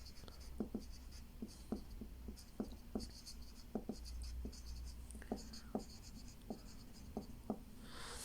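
A pen or pencil writes on paper during a drafting-instruments lecture, quiet scratchy strokes in short irregular bursts, close and faint, with no talk in between.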